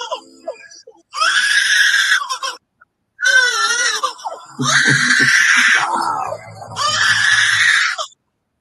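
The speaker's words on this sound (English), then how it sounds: "The terrifying bird sound in the world. Lyrebird. Lyrebird. Listen to Lyrebird." Loud, harsh screeching bird calls come in four separate bursts with short silences between, raspy and strident, close to the listener.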